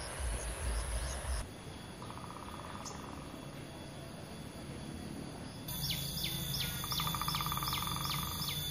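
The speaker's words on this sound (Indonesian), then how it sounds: "terdengarkan barusan suara pohon diketuk oleh burung pelatuk," A woodpecker knocks on a coconut palm trunk in a village, giving two faint, fast rattling bursts of taps, with distant bird chirps and insect buzz around them.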